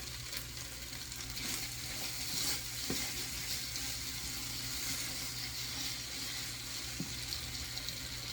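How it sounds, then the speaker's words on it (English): Impossible meat and onions brown in a pan, a steady faint sizzle with a few soft scrapes and taps from stirring, no voices over it. "we'll let this continue browning. Same thing with onions"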